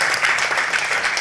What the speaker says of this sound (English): keep clapping those hands for the Hermitage Philadelphia